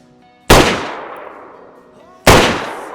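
An unsuppressed gun in the Screaming Dayz video game fires two loud, sharp shots about two seconds apart, each with a long ringing decay that trails off in between.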